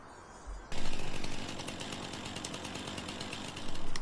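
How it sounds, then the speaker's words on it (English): A chainsaw in Farming Simulator 19 starts abruptly, revving to a loud, rasping buzz, then settles into a steady, slightly pulsing cutting drone, swelling again near the end. "We're going to chainsaw it down."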